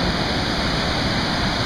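Lower Swallow Falls in Swallow Falls State Park, Maryland, roars with a steady, dense rush of falling water, close and unbroken for a short stretch with no voices.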